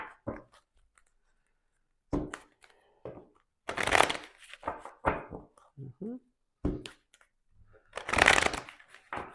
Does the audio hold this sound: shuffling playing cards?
yes